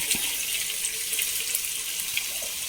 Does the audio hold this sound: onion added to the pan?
yes